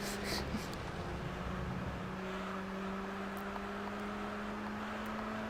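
The Mazda RX-7 in Gran Turismo 3 drones with a steady, sustained engine tone that shifts slightly in pitch partway through. It stays constant and moderately loud throughout.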